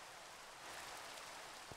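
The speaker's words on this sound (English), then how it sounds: "Of course it's raining and it's just me and Mystical Goddess on here at the moment" Rain falls in the Minecraft video game as a soft, steady hiss that is faint and even throughout, with no one speaking.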